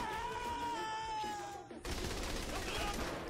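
Enemy gunfire in the video game Saints Row: The Third: a sustained tonal sound gives way abruptly to a rough, continuous burst of shots that fills the second half at fairly loud volume.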